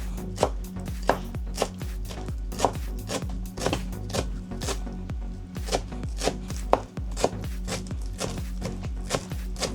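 A knife finely chops a bunch of cilantro on a board for a red shashlik sauce, a fast, steady run of crisp close taps with no talking.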